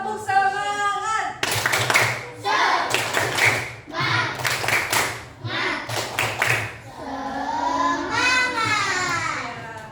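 A class of fourth-grade schoolchildren performs a rhythmic spirit clap in bursts of quick patterned claps, with children's voices chanting and a teacher speaking between the clap sequences.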